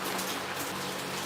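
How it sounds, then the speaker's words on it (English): Steady rain falls outdoors in a continuous broadband hiss, fairly loud and even throughout, with no voices over it. "It's raining."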